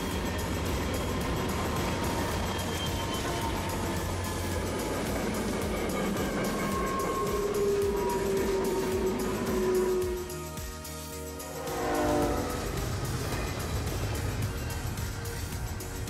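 A freight train rumbles past with a continuous roar and rattling cars, tonal squeals rising and falling, then a brief dip before the noise resumes.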